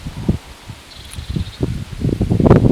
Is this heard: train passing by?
no